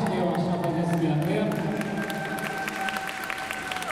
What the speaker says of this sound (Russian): Команда «Обаяшки» ваши аплодисменты.